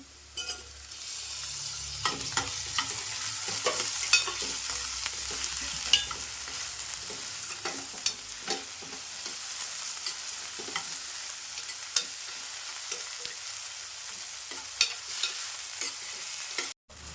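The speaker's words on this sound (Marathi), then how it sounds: "कांदा आणि लसूण जरा भाजले व्यवस्थित असे आता टोमॅटो पण टाकून घेते" Onion and garlic fry in a pan with a constant crackling sizzle and repeated scraping stirs from a spoon. Tomatoes then go in, and the steady, close cooking noise carries on with no talk.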